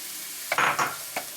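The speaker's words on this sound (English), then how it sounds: "I'm going to just stir it in there with the olive oil." Crushed garlic sizzling in olive oil in a pan while being stirred, a soft frying hiss broken by a few short scraping strokes of the utensil against the pan.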